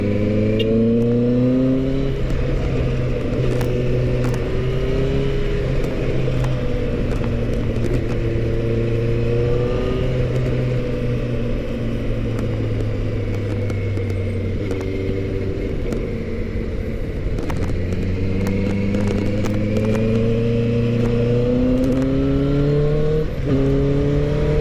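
A 2022 QJmotor Race 600RR motorcycle accelerates on a test ride, its engine droning loudly and continuously, rising in pitch through the gears and dipping between shifts, with wind noise and no talk.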